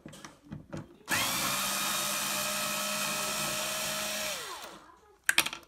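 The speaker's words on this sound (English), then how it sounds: "One thing I do is just use a cordless screwdriver." A cordless screwdriver backing out screws from a pinball playfield: a few faint taps, then a loud steady whirring motor run of about three seconds that winds down, followed by sharp clicks and clatter of parts.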